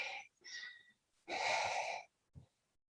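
Ujjayi yoga breathing during a power yoga session, slow audible breaths with a throaty, hissing rasp, a few short strokes followed by one longer, louder exhale, close to the microphone.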